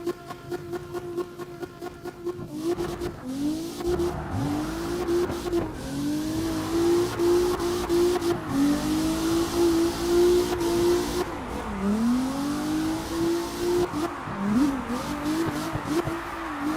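Drift cars at a drift championship wail at high revs, the engine note rising and dipping as they bounce off the limiter, under a continuous broad hiss of squealing tires, loud and sustained throughout.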